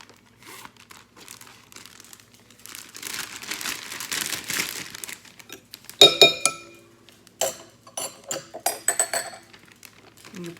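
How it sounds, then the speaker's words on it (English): Plastic bag crinkles and rustles softly at first, then sharper crackling bursts come in quick, irregular handling noises close by, while making an omelette in a bag. "Now you're gonna take your plastic bag."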